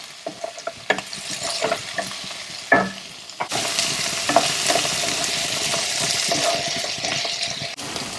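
Egg and ajwain mixture sautéing in a frying pan for a Tamil Nadu egg kuzhambu, with steady close sizzling and repeated scraping stirs of a spoon against the pan, no voices.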